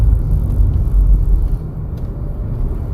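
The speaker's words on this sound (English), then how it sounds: "There's so many cars here." Steady low rumble of cars passing on a city street at night in Los Angeles, continuous and fairly loud with no distinct voices.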